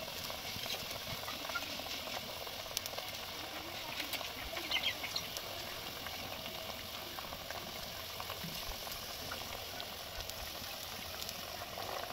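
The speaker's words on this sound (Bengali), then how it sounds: "দেখো ঝোলটা টকবক করে ফুটে উঠেছে" Fish curry gravy with turmeric and salt boiling in a pan, a faint, steady bubbling simmer with soft pops running throughout at low level.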